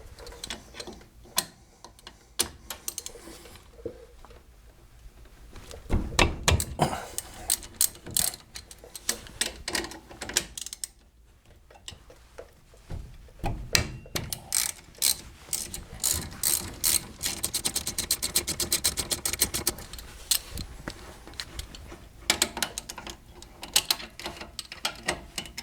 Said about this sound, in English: This requires a T55 torque to remove the slider bolts on the caliper.